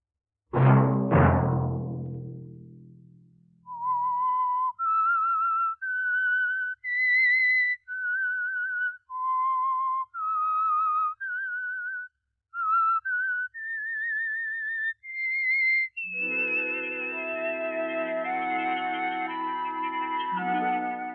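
A whistled signal tune for The Whistler radio mystery program begins with a low bell-like strike, then a run of clear, separate whistled notes rising and falling, and ends in a sustained orchestral chord.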